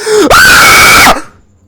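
A story reader imitates a scream with his own voice, one loud, drawn-out, high wail rising from a lower cry, held for nearly a second and then cut off abruptly.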